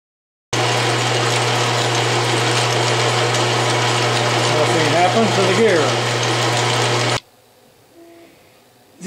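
An Atlas metal lathe fitted with 3D-printed gears cuts metal at 500 RPM with a 0.030-inch depth of cut. A loud, steady mechanical whir with a low hum runs for about seven seconds, then cuts off into quiet room tone.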